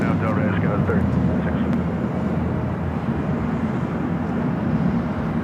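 A Delta Connection SkyWest Embraer 175 jet on its takeoff roll from runway 24 Left at LAX, a loud, steady broadband engine roar holding throughout, with faint radio chatter underneath.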